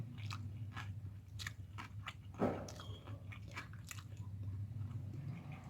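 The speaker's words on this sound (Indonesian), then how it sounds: "Kita makan sekalian sama minyak." Close, quiet chewing and biting of pempek lenjer, a long Palembang fish cake served with oil, with soft crunches and one sharper bite, set against a low steady hum of background noise.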